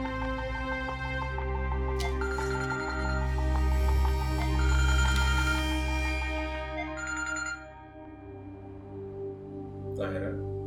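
A telephone rings in a tonal ringtone pattern over a dense, loud music bed with a pause near the end, the ringing tones layered throughout rather than standing alone.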